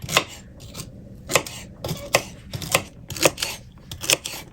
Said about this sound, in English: So I'm going to just cut up some celery here.